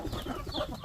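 Native chickens cluck and call softly during feeding, several birds close by in a quiet yard, faint overall.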